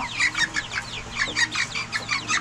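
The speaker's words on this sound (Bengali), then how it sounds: "আমি আপনাকে মুরগি দেখাই" Chickens on a small homestead poultry farm cluck in quick repeated bursts, several birds close by with overlapping calls and no talking.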